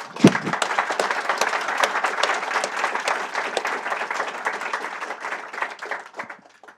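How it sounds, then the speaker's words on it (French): Lively audience applause after a tech talk on Java, GraalVM and Quarkus, dense clapping from a room of listeners that starts with a sharp knock, holds steady for several seconds, then tapers off. "Tout d'abord, applaudissements."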